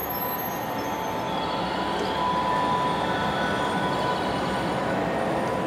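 A Belle Montagne et Mer (Berumonta) train in Japan produces a steady broadband rumble and rolling noise with a faint tonal whine, running continuously at an even moderate level with no talk.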